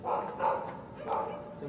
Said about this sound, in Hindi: देखो ये कुत्ते भौंक रहे हैं ना